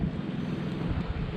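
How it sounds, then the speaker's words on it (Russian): Strong wind buffets the microphone at a fishing spot, a continuous low roaring rush with no pauses and no voices. "потому что ветрено"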